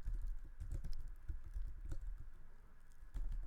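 Computer keyboard typing code, close and fairly quiet, with uneven bursts of soft key clicks and short pauses, no talk.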